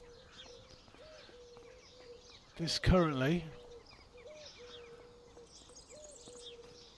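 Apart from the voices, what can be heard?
bird sounds in video game Farming Simulator 25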